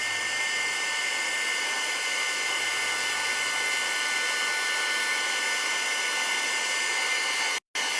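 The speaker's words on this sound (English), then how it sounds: "So I'm just going to give this a hit with my heat gun." A heat gun blows steadily on an art journal page, making a loud, even whooshing hiss that holds for about eight seconds before cutting out briefly near the end.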